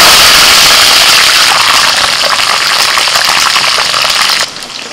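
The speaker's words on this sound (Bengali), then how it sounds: "এবার একটু ছেটকাবে, কারি পাতাগুলো ভাজবো।" Curry leaves sizzle and spatter in hot oil in a home kitchen after fried peanuts, a loud, steady crackling hiss that drops off sharply near the end.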